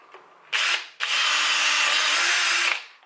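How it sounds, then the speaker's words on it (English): A power drill whines loudly in two bursts while drilling a rivet hole for a Lambretta scooter badge: a short spin, a brief pause, then a longer steady run of about two seconds before cutting off. "Drill another hole."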